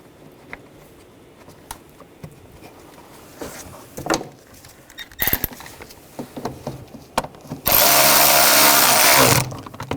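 A power tool driving screws into an air duct during a water pump replacement on a 2009-2017 Volkswagen Tiguan, scattered clicks and handling noises followed by a loud continuous whirring burst near the end.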